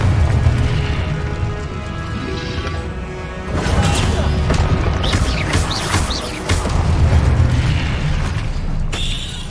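Confringo fire spell explosions in the Hogwarts Legacy video game during a boss fight, deep booming blasts over a dense rumbling battle bed with crackles and debris, two heavier surges a few seconds apart.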